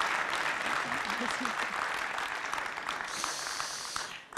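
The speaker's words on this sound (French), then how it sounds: "Je crois que vous pouvez les applaudir." Audience in an auditorium at a forum opening applauds steadily, a dense clapping that fades out at the end.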